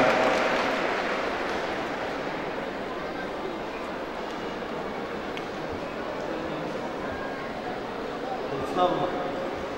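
Audience at a painting contest award ceremony applauds the first-place winner, a steady broad wash of clapping sustained throughout, with a brief louder swell near the end.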